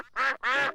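A cartoon duck quacks twice in quick succession, two nasal, buzzy calls close to the listener, with no talk.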